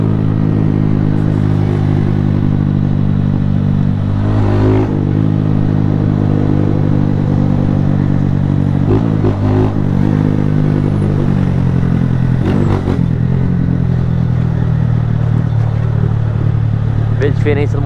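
Motorcycle engine running steadily throughout a Brazilian motovlog ride with no rear-view mirrors, a continuous low drone with occasional clattering bursts, close and loud, with some talk over it.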